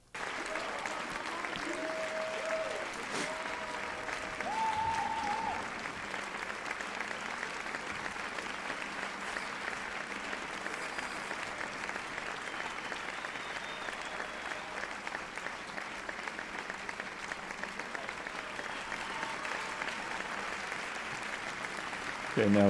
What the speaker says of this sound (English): So let's give it some applause for that.